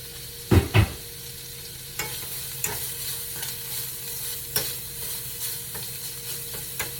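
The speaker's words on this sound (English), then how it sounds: "I'm going to drop this in this olive oil, and we're going to let this cook." Meat cooking in hot olive oil in a pan: a couple of loud knocks near the start, then a continuous sizzle with light scraping and clattering clicks recurring every second or so, with no voices.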